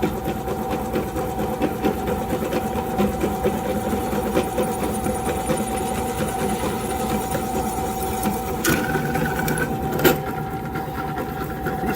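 Drill boring pilot holes in metal for rerouting an Onan generator exhaust on a 2022 Tiffin Allegro RV, a steady mechanical whine running continuously and close, with a few sharper clicks near the end.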